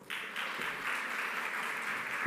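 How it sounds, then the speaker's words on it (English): Applause from an audience at a Namibian annual sports awards evening, a steady, fairly distant wash of many hands clapping that starts abruptly and holds evenly for a couple of seconds. "Ladies and gentlemen, round of applause."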